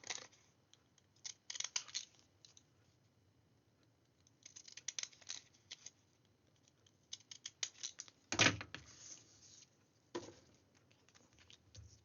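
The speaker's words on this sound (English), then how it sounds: "just cut all the way around, cut way past when you get to the corner." Scissors snipping around a paper place card, short bursts of crisp, close cuts separated by quiet pauses, with no talking.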